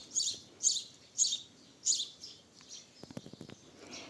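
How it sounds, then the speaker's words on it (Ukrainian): Birds chirp in a clear, repeated high-pitched song, four bright phrases followed by quicker, softer twittering calls, with no talking. "Пташки співають."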